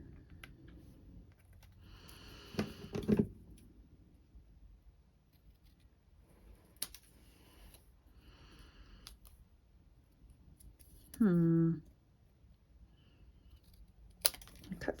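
Scissors cut through card stock and washi tape: a few crisp snips come in short bursts, separated by long quiet stretches with faint handling clicks.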